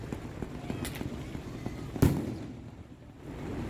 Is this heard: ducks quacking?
no